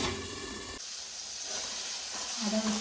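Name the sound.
spice masala frying over low flame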